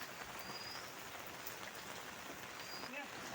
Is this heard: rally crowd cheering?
no